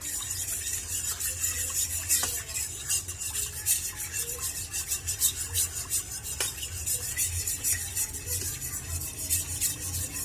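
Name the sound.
stirring coconut milk porridge in pot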